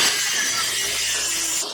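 A track saw running along its rail as it cuts a wooden joist, a bright high whine sustained for under two seconds and ending abruptly, with no voices.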